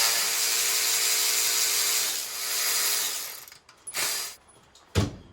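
Tool work on the coil bracket bolts of a 2014 Cadillac ATS 2.0 turbo engine: a steady, close ratcheting whir for a few seconds, then a pause, a short burst and a final sharp clank, with no talking.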